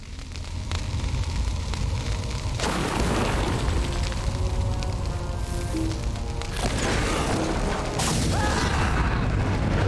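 A bomb goes off in the online game Lord of the Rings Online with a loud, sustained rumbling blast. Crackling bursts and a second surge follow, heard close with no voices.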